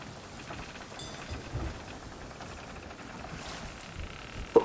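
Steady storm rain hisses and patters across a ship's deck in Sea of Thieves, a continuous wash of noise that holds at a moderate level, with a sharp knock right at the end.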